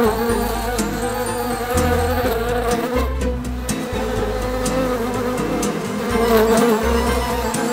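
A swarm of cartoon bees buzzes loudly and continuously, a dense droning hum with shifting pitch that fills the whole stretch, with no speech.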